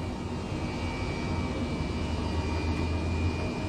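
Steady, loud helicopter engine drone in Microsoft Flight Simulator 2020 on a flight to Iceland's Fagradalsfjall volcano, an unbroken whine and rumble throughout with no talk.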